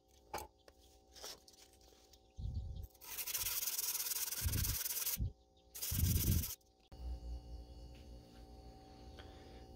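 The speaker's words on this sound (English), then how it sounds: "So now we're going to do more sanding." A steel bayonet blade for an M1 carbine is hand-sanded, with bursts of loud, broadband scraping strokes separated by pauses and lighter rubbing, close up and without talking.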